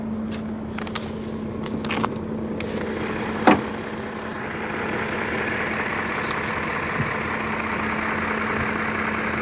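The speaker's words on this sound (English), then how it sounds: "so let's do an engine startup for you guys" A BMW M5 engine idles just after startup with a steady, low, even hum and a faint mechanical click partway through, heard close and alone without talking.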